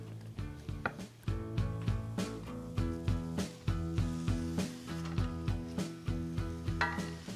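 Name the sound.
knife slicing deli pastrami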